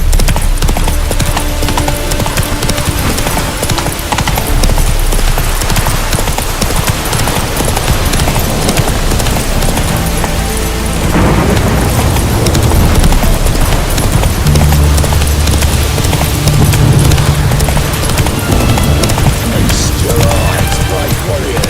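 Hooves of the horse Roach pound in a fast, steady gallop through The Witcher 3, loud and continuous for the whole stretch, with heavier thuds and game effects mixed in.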